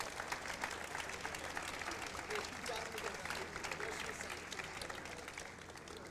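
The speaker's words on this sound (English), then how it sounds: "Give them a round of applause." An audience at the 2012 New Venture Competition applauds its judging panel with sustained, dense clapping that slowly tapers off near the end.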